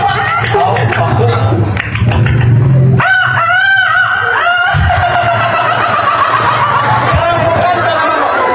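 A person mimics a crowing chicken with a rising, wavering vocal call amid lively chatter and laughter from several people nearby.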